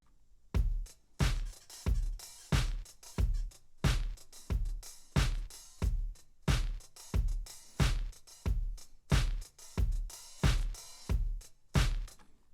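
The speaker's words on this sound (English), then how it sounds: "So what I'll do is I'll add a hi-hat that I actually play myself" Live-played hi-hat layered over programmed drums in a music production mix, a loose, slightly uneven groove of punchy hits repeating roughly twice per second, loud and alone with no talk.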